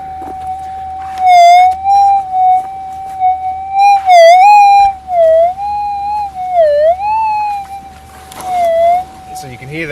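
Metal detector with a new coil sounding through an external speaker while searching for gold: a steady high hum that warbles and dips into wavering target tones, with brief bursts of louder ringing, continuous and fairly loud.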